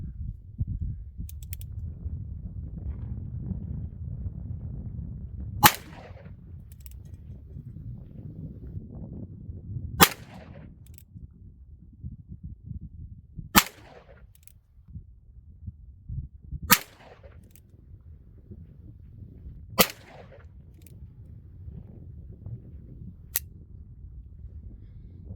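An EMF Great Western II single-action revolver firing .38 Special cowboy rounds: six sharp, loud shots spaced several seconds apart over a low rumbling background, with small mechanical clicks between them.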